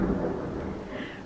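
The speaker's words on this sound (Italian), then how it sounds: "Perché piove, temporale, insomma, veramente bruttissimo." Low rumbling thunder rolls from a rainstorm outside a home, a steady deep grumble heard indoors with faint rain texture behind it.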